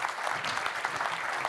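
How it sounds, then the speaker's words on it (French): Steady applause from an evening event audience thanking people who have just given testimony, dense continuous clapping throughout at even loudness. "merci également à vous Noémie Lemire, merci pour votre témoignage, on peut vous applaudir."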